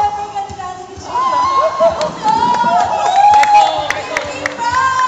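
A crowd of students at an awards ceremony claps and cheers for a winning group, a loud, sustained burst of applause and shouts with scattered whoops throughout.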